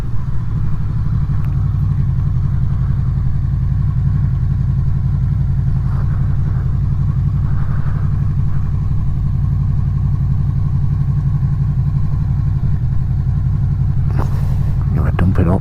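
A Honda VFR800 motorcycle idles nearby outdoors, a loud, steady low rumbling drone that holds unchanged throughout, with a brief clatter near the end.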